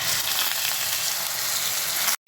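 Mustard seeds and dal sizzle loudly in hot oil while tempering, a dense continuous crackling hiss close to the pan that cuts off abruptly at the end.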